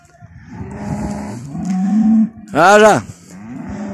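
Cattle mooing in a Romanian rural area near Bacău, with low lowing calls under someone talking, then a loud, close, drawn-out moo with rich harmonics, followed by more low calls and voices.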